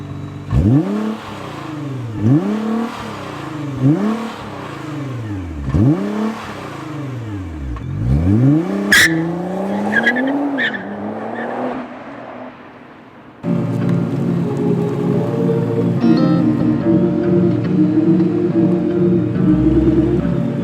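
A Toyota A90 Supra engine revs hard in repeated rising and falling surges, then settles into a steady, loud drone as the car launches from a stop.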